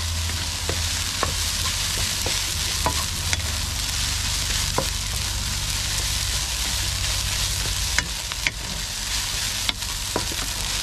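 Food fries with a loud, constant sizzle while a utensil stirs and scrapes the pan in scattered sharp clicks, close up with no talking.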